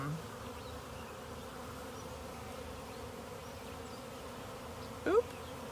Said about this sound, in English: to try to move the bees out of that section and get new bees